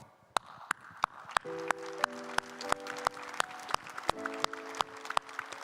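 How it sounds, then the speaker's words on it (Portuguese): A single person claps during a church sermon, producing crisp handclaps at a steady, regular beat, moderately close, over soft sustained keyboard chords. "Deixa que eu mesmo aplaudo."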